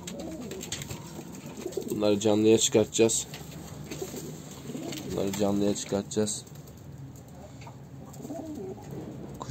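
Domestic pigeons coo in a backyard coop of flying and performing birds, soft repeated calls near the middle of the clip mixed with someone talking.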